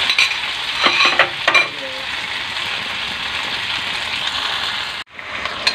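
Sliced hot dog and corned beef sizzle loudly in a pan while being stirred, with a few scraping knocks early on, a continuous close hiss, and a sudden brief break near the end.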